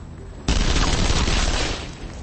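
Automatic guns fire in a dense, loud burst of rapid shots that start abruptly and hold as a sustained roar for about two seconds, close and harsh, with no voices.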